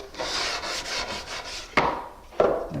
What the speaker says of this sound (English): I usually go back over it with a little sandpaper, just kind of take the rough edge off